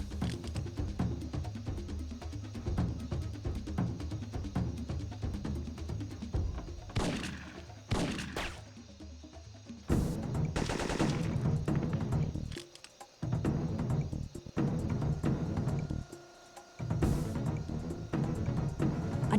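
Gunfire from a sniper shotgun and an automatic turret in Syphon Filter 3, heard as a dense, continuous stretch of loud game combat with irregular sharp bursts and brief drops in level throughout.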